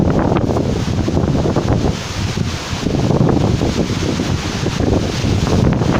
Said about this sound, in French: Ça, c'est le Mistral de Marseille.